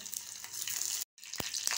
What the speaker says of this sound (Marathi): तेलामध्ये कढीपत्ता घालूया